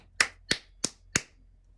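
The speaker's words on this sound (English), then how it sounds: "Y'all hear that? When I clap," Four sharp hand claps in an even rhythm, each one ringing briefly off a nearby sound bowl before fading, loud and close in an otherwise quiet room.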